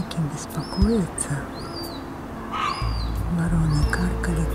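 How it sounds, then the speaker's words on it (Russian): Gulls on a house rooftop give restless, rising calls in short bursts, fairly distant, over a steady low background rumble. "Что-то чайки беспокоятся."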